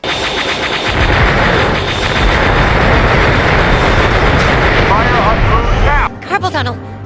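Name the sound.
rapid laser gun fire in Star Wars Shadows of the Empire video game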